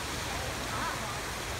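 Longwood Gardens fountain water splashes as a steady, broad rushing wash, fairly faint and unbroken throughout, with voices talking nearby.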